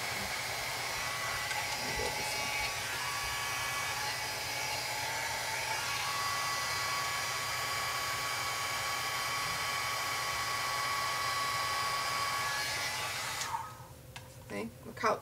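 A dryer blowing on a handmade flower petal pressed with a stylus to set a deep indentation, giving a steady, close whirring hiss that cuts off near the end, followed by a few soft handling sounds.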